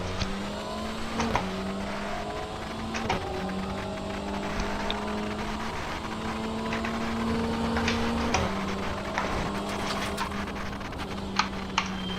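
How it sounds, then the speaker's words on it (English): A TCR touring car in the iRacing sim racing game holds a steady, droning engine note that rises and falls through the revs, with sharp clicks scattered over it and no talking. "A little different engine sound here."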